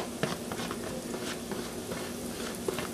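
Diced onion sauteing in bacon grease, a steady soft sizzle with light stirring scrapes and small pops, close and continuous.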